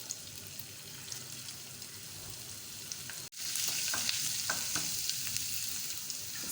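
Finely chopped ginger frying in hot ghee in a small pan, a steady hissing sizzle that briefly cuts out, then returns louder and brighter as the ginger goes in, close with light stirring.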